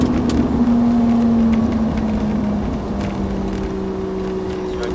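A Ferrari 458 accelerates around the Montlhéry race track. Its engine holds a loud, steady drone near the listener, and the pitch shifts slightly as it pulls through the gears.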